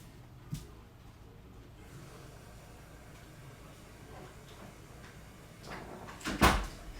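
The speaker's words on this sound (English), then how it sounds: "let me shut the door real quick because I have everything open" A door shuts in a room with a sharp, loud thump and short rattle near the end, after a quieter knock earlier over faint room noise.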